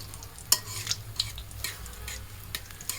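Potato chops (aloo chop) frying in oil, a faint soft sizzle with a few light clicks of a utensil in the pan, quiet and close with no talk.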